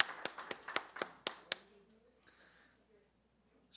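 A few people clap for the staff at a Lynchburg Comprehensive Plan kick-off meeting. It is a short, sparse burst of about eight distinct claps that fades into quiet room tone.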